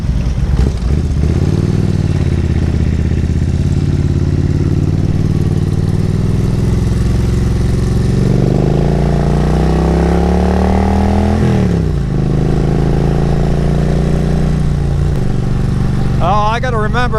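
A motorcycle engine drones loud and close while riding in Florida, its pitch climbing and dipping with throttle changes, wind rushing over everything, and a voice is briefly heard near the end.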